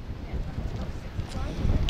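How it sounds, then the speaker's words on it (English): Wind buffets the microphone in a steady low rumbling roar with gusty fluctuations, fairly loud and close throughout. "it's a bit windy, so wait for the wind to die down a moment"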